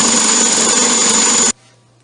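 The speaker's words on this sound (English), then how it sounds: "I start sanding the edges with the belt sander." Belt sander working along the cut edges of a round wooden tabletop, a loud, steady whirring grind held close for about a second and a half before cutting off abruptly into near silence.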